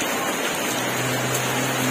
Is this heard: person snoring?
no